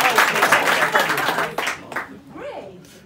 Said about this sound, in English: Clap your hands too.